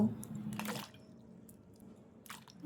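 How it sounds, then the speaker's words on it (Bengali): Cut potato pieces being washed in water, with soft squishing and dripping sounds and a couple of brief splashy bursts, close and fairly quiet. "আলুগুলো কাটা হয়ে গেলে তুলে নিয়ে জলে ধুয়ে নেব।"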